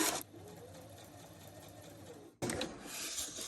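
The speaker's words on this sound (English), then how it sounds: "Turn it around, stitch the other half back. Turn it around again to stitch the middle vein." A sewing machine stitches a paper leaf shape for a junk journal, running in a steady close whir for over two seconds, stopping briefly, then starting again at full speed.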